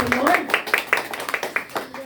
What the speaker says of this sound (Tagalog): Palakpak muna sa ating Panginoon